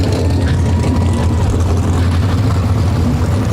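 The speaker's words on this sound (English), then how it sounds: "from where I stand, I hear engines" Sprint car engines at Park Jefferson Speedway during a 360 sprint car race, a steady loud low-pitched drone that holds without a break for the whole stretch.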